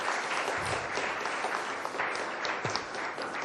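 An audience at a literary festival session claps in a dense, sustained round of applause, steady and fairly loud throughout with no voices over it.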